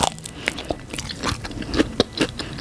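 Close, wet crunching and chewing of cooked shrimp with sharp bites and crackles, a steady run of mouth noises heard up close without talking.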